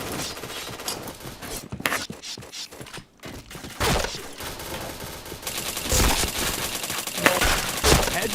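Rapid bursts of gunfire in a shooter video game, dense crackling volleys that come and go in loud clusters with brief gaps.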